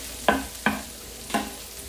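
Butter hits a hot pan while rice and vegetable balls are cooked, giving three sharp sizzling bursts, each flaring loud and close then quickly fading.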